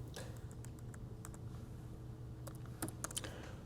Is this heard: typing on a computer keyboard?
yes